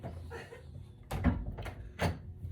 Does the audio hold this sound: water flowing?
no